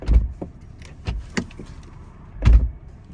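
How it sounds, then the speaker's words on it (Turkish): A Porsche Taycan 4S car door slams shut with a solid thud, followed by a few lighter clicks and another heavy thump near the end; close and fairly loud. "Şöyle bir kapıyı kapatalım."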